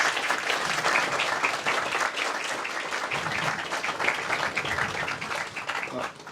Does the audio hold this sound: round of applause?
yes